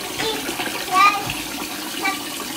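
Hands stir sticky rice soaking in lightly salted water in a bowl, giving soft sloshing and swishing water sounds with a brief louder splash near the middle.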